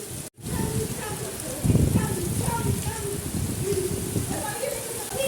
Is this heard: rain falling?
yes